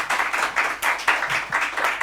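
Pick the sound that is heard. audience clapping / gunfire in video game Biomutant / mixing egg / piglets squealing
audience clapping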